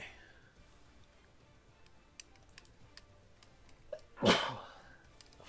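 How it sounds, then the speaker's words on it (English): A single loud, sharp sneeze bursts out near the end, preceded by a faint intake and light clicking sounds like keyboard or mouse taps in a quiet room. "Oh, man, I can't quit sneezing."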